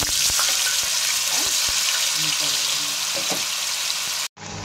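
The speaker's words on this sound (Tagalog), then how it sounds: "magpiprito na tayo guys ng ating tokwa" Tofu frying in hot oil in a pan, a steady loud sizzle with crackling that runs throughout before cutting off abruptly near the end.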